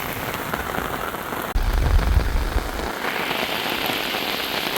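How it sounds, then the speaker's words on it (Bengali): Heavy monsoon rain pours on a village in the haor wetlands of Kishoreganj district, Bangladesh, a loud, steady roaring hiss with a deep rumbling swell for a couple of seconds midway. "দেখেন বৃষ্টিতে বর্ষায় হাওয়ার এলাকার দৃশ্য কীরকম হয় প্রচুর বৃষ্টি হইতেছে"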